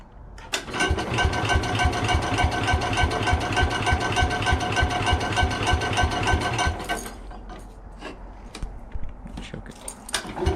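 Small tractor engine cranking on the starter after winter storage, a loud, even rapid chugging that runs about seven seconds without firing, then cuts off into quieter scattered clicks and handling noises.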